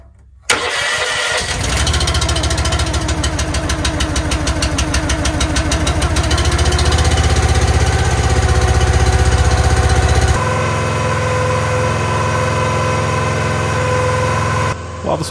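The engine of a Split Force 13/20T log splitter cranks, catches and settles into a loud, steady idle while warming up, a close rhythmic chugging that continues with a slight shift partway through.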